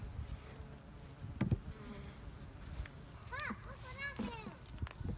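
Honey bees buzzing around a Flow Hive as workers drive out drones, a faint steady hum with bird chirps and a voice in the background.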